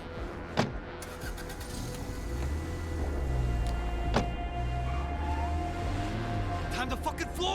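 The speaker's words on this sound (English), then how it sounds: "Let's see if we can drive the car over there." A car drives in a video game, its low engine rumble rising and falling beneath sharp clicks and other game sounds, fairly quiet throughout.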